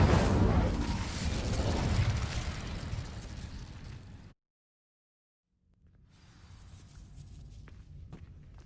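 An Incendio fire spell is cast in the Hogwarts Legacy video game, a loud roaring whoosh of flame that fades into sudden silence, followed by a quieter ambient rumble with a few faint clicks.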